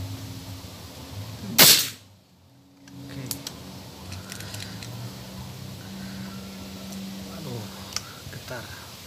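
A single sharp crack from a PCP Predator Dural OD 38 air rifle fired during an accuracy test at targets, followed by quiet outdoor ambience with a few faint ticks and soft distant murmurs.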